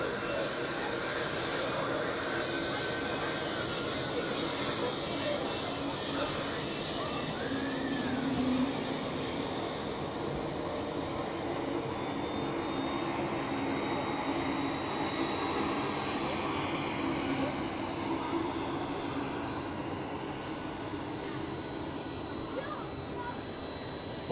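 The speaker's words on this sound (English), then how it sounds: "A220 from Air Baltic inbound from Venice in Italy." Airbus A220 jet operated by Air Baltic arriving at Zurich Airport, a steady distant engine roar and rumble that holds throughout, mixed with broad outdoor background noise and occasional voices.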